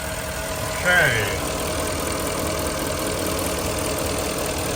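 A 2013 Porsche Cayenne GTS with 135k km sits idling with the hood open, its engine giving a steady, even hum close up, with a short voice heard near the start.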